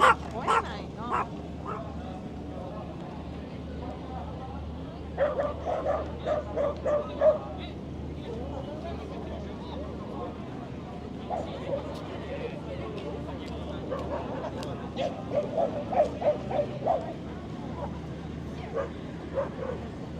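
Dogs bark, yip and whimper in short repeated bursts at a busy outdoor bay-side market selling dog goods, close and fairly loud, with crowd chatter and staff calling out to a queue throughout.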